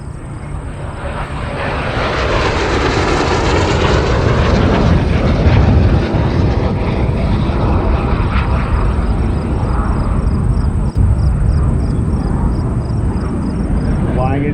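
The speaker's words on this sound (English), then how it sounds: "our flight crew is repositioning the Hunter for a high speed pass" A Hawker Hunter T7 jet roars through a high speed pass at an airshow in London, swelling over a couple of seconds into a loud, sustained broadband rush that holds steady to the end, with a faint announcer's voice beneath it.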